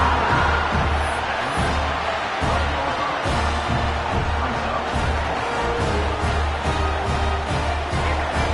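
Stadium crowd noise in the video game College Football 26, a dense, steady roar of a large crowd with rhythmic low thumps underneath, loud and unbroken.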